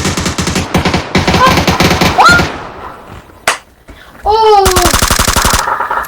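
Rapid bursts of M416 assault rifle fire in a shooting video game, loud and close, broken by short pauses and sharp electronic effect sounds, with faint voices in between.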